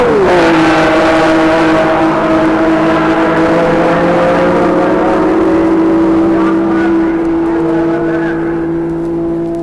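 Cooper Maserati Grand Prix race car driven by John Surtees, its loud high-pitched engine screaming close by at the start, then holding a steady sustained note that slowly fades as the car draws away.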